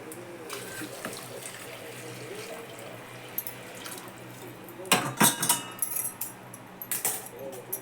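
Hot water poured into a pot of chicken, potato and Indrayani rice makes a continuous running, splashing flow with a couple of clattering pot knocks near the end, close and moderately loud.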